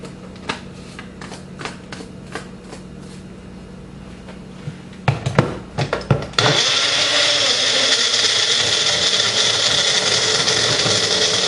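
A blender whirs loud and steady, mixing frozen strawberries, a banana and vodka, after a few knocks and clatters.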